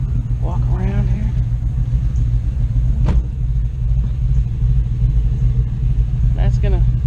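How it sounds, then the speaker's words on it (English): A Toyota FJ fitted with an LS V8 engine cruises on the road, giving a steady low engine rumble from inside the vehicle while people talk over it. "We just cruised around a Toyota FJ with LS power."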